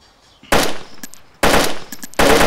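Gunfire in the survival video game DayZ, three loud close bursts of rapid automatic shots, each lasting about half a second, separated by short quiet gaps with faint clicks.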